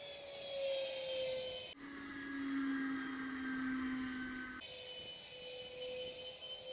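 A twin 70mm electric ducted fan model jet at full throttle, a steady high-pitched whine whose pitch shifts as it passes, fairly faint and distant with no talk.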